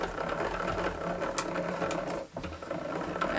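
Spellbinders hot foil machine rolling a plate through to the other side, a continuous mechanical whir with a ratcheting, gear-like texture, a brief dip partway, then the rolling resumes.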